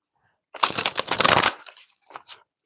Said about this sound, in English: Okay, we'll get a shuffle here.